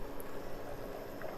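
Water with mutton boiling in a pressure cooker for biryani, a steady close bubbling and roiling that continues evenly throughout.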